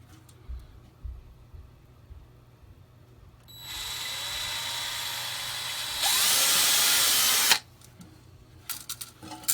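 A power drill whines up to a steady high pitch, then revs louder for a couple of seconds before cutting off, with faint clatter around it, during toilet repair work.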